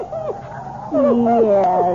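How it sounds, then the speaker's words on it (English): A dog whimpers in a radio drama scene, giving high wavering whines that rise and fall in several short bursts, the longest in the second half, all close and fairly loud over a low steady background. "Yes, that's a good dog."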